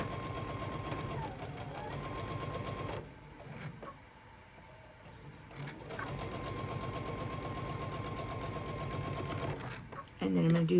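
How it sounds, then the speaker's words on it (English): A sewing machine stitches cotton quilt pieces in two fast, steady runs of rhythmic whirring, separated by a short pause with faint handling noise, then a clunk at the end. "I'm just going to sew it all the way down."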